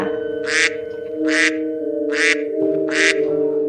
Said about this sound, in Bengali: হাঁসটা